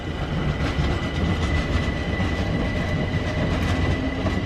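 A London Overground train on the line toward Southend, Norwich and Ipswich rolls by near Stratford, a steady loud rumble of wheels on track holding for several seconds with no voices.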